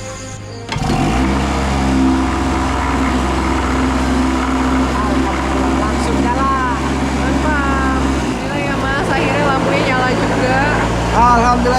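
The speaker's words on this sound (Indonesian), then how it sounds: "Sebagian kecil warga menyimpan mesin diesel di rumah sebagai cadangan untuk menyalakan listrik." A household diesel generator, kept as a backup power source in a remote village, starts with a sudden jump and then runs in a steady, loud low throb, while people talk over it throughout.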